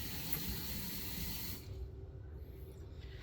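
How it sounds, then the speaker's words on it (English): Water is poured into a rock tumbler barrel holding stage 1 grit and stones, a quiet steady hissing trickle that thins and softens partway through, with no talking. "So I'm just gonna put some more stage 1 grit in here with some water."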